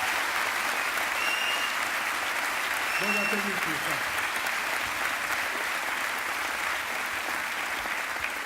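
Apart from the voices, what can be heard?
audience applause at a comedy show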